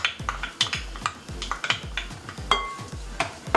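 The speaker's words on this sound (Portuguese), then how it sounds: "e mistura tudo, para dar uma pré-misturada" A spoon works through a mayonnaise salad with chopped apple and olives, making quiet, steady, rhythmic scrapes and soft wet taps against the bowl, close and alone.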